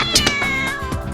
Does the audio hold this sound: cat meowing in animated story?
yes